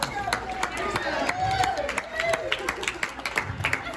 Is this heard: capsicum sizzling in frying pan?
no